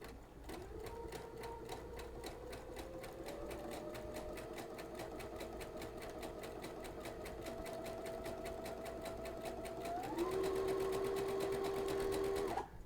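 A sewing machine with an edge joining foot runs a wide zigzag stitch in a fast steady rhythm, close and continuous, its hum stepping up in speed and pitch toward the end.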